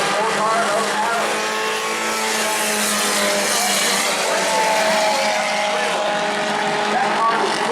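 Race cars racing at New Smyrna Speedway, a continuous roar of several engines at speed with a commentator talking over it.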